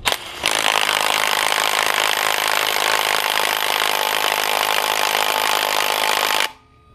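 Power tool tightening a bolt on the cracked engine block of a Honda Civic FA5 Mugen Si, running as one loud, steady, continuous whir for about six seconds before cutting off abruptly.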